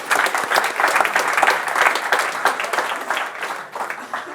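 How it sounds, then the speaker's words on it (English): A crowd at an Oslo evening talk event breaks into steady, dense applause, many hands clapping together at full volume before beginning to thin out toward the end. "That is an applause for them too."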